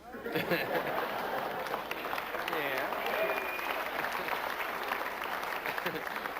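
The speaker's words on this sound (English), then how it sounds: "Only half the audience clapped." An audience claps steadily for several seconds at the 1991 Tyson vs. Ruddock boxing pre-fight event, a dense wash of hands with a murmur of voices mixed in.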